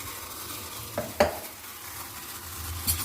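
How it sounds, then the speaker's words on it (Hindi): A spoon scrapes and clinks briefly while stirring tea boiling in a pot, over a steady bubbling, sizzling hiss. "हल्का सा इसको चला देंगे।"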